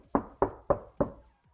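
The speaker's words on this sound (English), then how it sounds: "once I knock it, I can feel it reverberate back" Four evenly spaced knocks on the outer door skin of a 1994-98 Ford Mustang SN95 lined with KILMAT sound deadener, each a close, solid thud with a short damped ring, heard alone.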